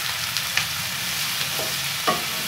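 Okra and potatoes sizzling steadily in a pan while being stirred, with a few soft scrapes and clicks of the spoon breaking through the continuous frying hiss.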